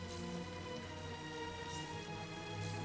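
Steady rain falling on puddles and wet ground in Star Wars Jedi: Fallen Order on the planet Bracca, a dense, constant patter filling the scene with no pauses, fairly loud and close.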